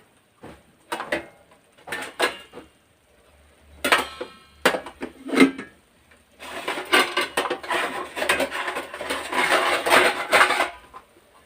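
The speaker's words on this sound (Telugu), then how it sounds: "ఇప్పుడు మూత పెట్టేసుకుని" Clattering and scraping at a pot of upma come first as a few separate knocks, then a lid is settled onto the cooking pot, followed by a longer stretch of rough, continuous rubbing and rattling, close and moderately loud.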